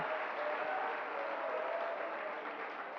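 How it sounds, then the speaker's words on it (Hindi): Audience in a Jain sermon hall clapping steadily together, a dense even wash of applause lasting throughout with no pauses, close and fairly loud. "कैसे ताली बजा रहे हो?"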